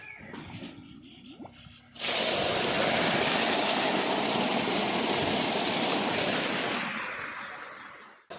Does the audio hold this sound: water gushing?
yes